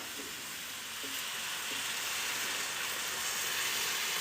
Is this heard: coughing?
no